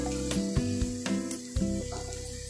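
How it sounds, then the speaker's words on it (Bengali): Chopped tomato and cut potatoes drop into sizzling spiced oil while chicken ghugni cooks, a few soft thumps and splatters landing over a continuous hiss with a steady tonal hum behind it. "এবার এর মধ্যে দিয়ে দেব টমেটো, কেটে রাখা আলু"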